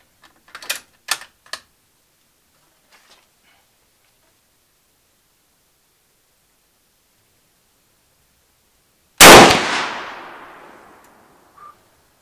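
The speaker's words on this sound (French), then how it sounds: "Je vais tirer une cartouche et on va voir ce que ça donne." A Carcano Mle 38 rifle fires a single cartridge with one sharp, loud report that decays into a fading echo. Some mechanical clicks of handling come before it, and a small knock follows.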